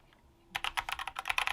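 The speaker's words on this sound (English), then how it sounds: "You're typing." A Dierya DK61 60% mechanical keyboard with brown switches is typed on in a quick, steady run of crisp, close clicks, starting after a quiet moment and continuing alone without talk.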